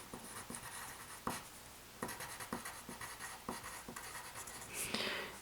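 Handwriting on a board while working through a pre-algebra lesson on rational numbers: steady, close scratchy strokes in short bursts with brief pauses, fairly quiet, with no talking.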